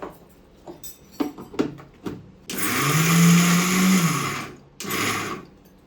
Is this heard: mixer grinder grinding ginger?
yes